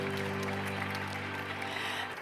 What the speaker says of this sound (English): Let's give it a final impetus round of applause.